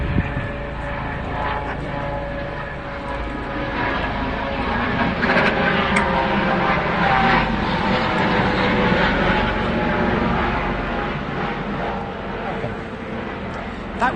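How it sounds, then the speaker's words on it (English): A normal helicopter flying very low and very close overhead, its loud rotor and engine roar filling the whole stretch and swelling as it passes, with people talking underneath. "That was just a normal helicopter, but very, very close."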